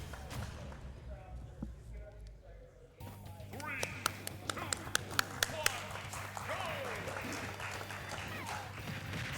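Crowd applauding and cheering Smash Bros players before game 5 of a Division 3 and 2 tournament match, a sustained burst of clapping that swells after a quieter opening with talk over it.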